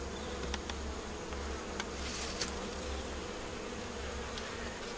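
Bees buzzing steadily around a wooden hive box, a soft continuous drone with a few brief louder passes of individual bees close by.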